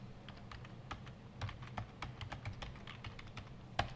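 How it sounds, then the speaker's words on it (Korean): Fingers type on a computer keyboard, including Ctrl+C and Ctrl+V shortcuts, producing quiet, close, irregular clicks and key taps in quick bursts, with no voices. "컨트롤 C, 컨트롤 V 이렇게 하면 되죠"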